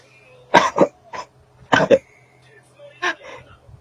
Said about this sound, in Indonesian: saya mau batuk dulu